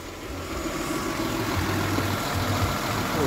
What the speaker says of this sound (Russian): Вот, греется пока мотор.